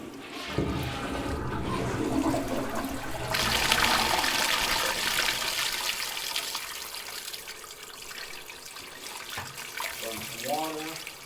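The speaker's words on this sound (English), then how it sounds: "Another flush." A plugged-up toilet at a Hyundai dealership flushes with a loud rushing surge that swells and then drains into a trickle and running water, close up, with a voice briefly near the end.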